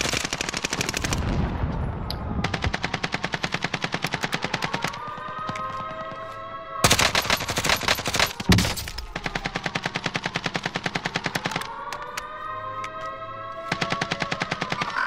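Bursts of automatic gunfire and rapid single shots from a Call of Duty Modern Warfare multiplayer match, loud and near. The rattling volleys repeat with short pauses and one heavy blast midway, with no talk over them.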